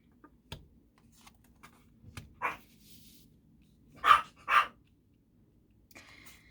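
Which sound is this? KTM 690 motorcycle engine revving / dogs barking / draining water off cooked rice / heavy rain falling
dogs barking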